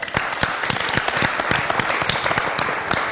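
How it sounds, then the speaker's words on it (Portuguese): A studio audience on a live afternoon talk show claps steadily, many hands producing a dense, even patter of applause that fills the room. "Muito bem, vamos aplaudi-lo então?"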